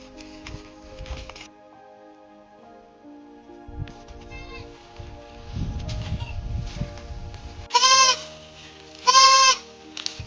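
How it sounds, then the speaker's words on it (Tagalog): A goat, one of two being moved on a farm, gives two loud bleats close by near the end, after quieter handling noises and rustling. "so ito yung isang kambing"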